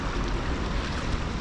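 Water pours steadily at a fishing spot's outflow, a loud continuous rushing wash that fills the whole clip without any speech.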